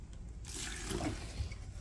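Water poured into a cob mix of earth, larger rocks and fibre, a soft splashing pour starting after a brief quiet moment and running steadily, close by and moderately faint, with no talk.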